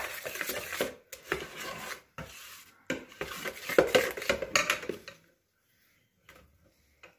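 Pizza dough mixture stirred in a bowl, with repeated scraping and knocking strokes in uneven bursts that stop before a quiet stretch with faint clinks near the end.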